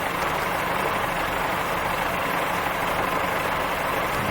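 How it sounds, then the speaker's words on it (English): Cars and a couple of vans drive up a road on a high street, a steady wash of engine and traffic noise heard from a moderate distance with no talking. "See the cars going up the road there, a couple of vans."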